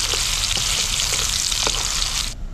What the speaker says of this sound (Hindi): सारे सोयाबीन को मैंने एक ही साथ डाल दिया है, अच्छे से इसको हम ब्राउन होने तक बढ़िया तल लेंगे